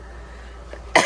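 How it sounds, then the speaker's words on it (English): After a near-silent pause, one sharp, loud cough bursts out close by, suggesting a person with a bad cough. "I have a horrible cough"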